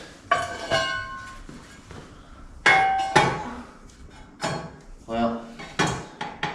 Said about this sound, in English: Let's throw that plate on there.